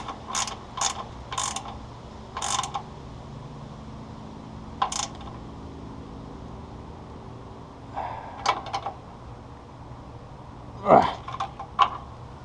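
A hand ratchet tightens bolts on the grill of a Willys CJ2a, giving short clicking bursts at irregular intervals, close by and fairly quiet, with a faint background hum.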